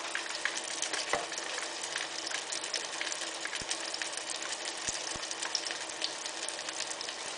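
Kotlets frying in a pan, a continuous moderate sizzle with fine crackles and a few sharp pops, steady and uninterrupted.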